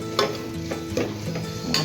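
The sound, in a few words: vegetables for pav bhaji being mashed and stirred in oil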